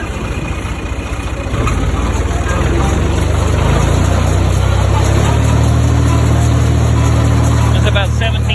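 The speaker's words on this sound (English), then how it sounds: "Alright, I'm gonna bump up the RPM a little bit." An Allis Chalmers tractor engine powering a 444 baler runs loud and close, its steady drone rising in pitch as the RPM climbs and then holding at a higher, even roar.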